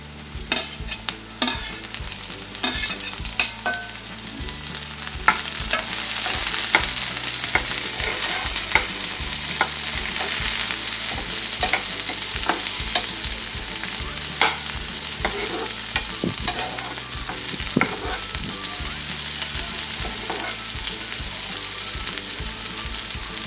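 Onion and tomato sizzle continuously in a pan while a spoon stirs and scrapes in regular, repeated strokes over a low steady background hum, with no talking.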